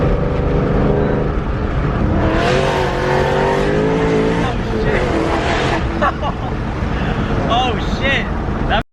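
Supercharged Ford Shelby GT500 accelerating hard, a loud, sustained engine roar with rising pitch across the whole stretch, heard from inside the car with voices talking over it.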